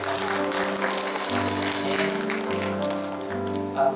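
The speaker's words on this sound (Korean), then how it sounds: "하나님께 감사와 영광의 박수 드립니다." Church congregation clapping in thanks during a Sunday service, soft and steady over sustained organ or keyboard chords that hold throughout.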